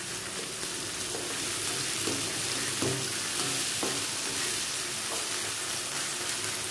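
Tomatoes frying in a garlic curry with salt in a pan, a steady close hiss of sizzling with occasional soft stirring scrapes and no voices.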